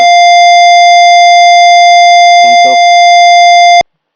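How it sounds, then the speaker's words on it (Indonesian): An IoT alarm buzzer, switched on together with an LED, holds one loud, steady electronic tone. A voice speaks briefly over it before the tone cuts off abruptly near the end. "buzzer dan LED-nya sudah nyala"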